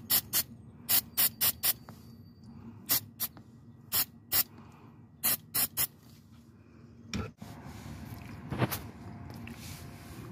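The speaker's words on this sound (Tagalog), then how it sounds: "Ito nga pala yung ginamit ko, yung carb clean, no?" Carb cleaner sprays onto neutral switch sensor parts of a 2008 Mazda 5, in a run of short, sharp hissing bursts in quick groups, followed by a longer, softer spray hiss, close up over a low background hum.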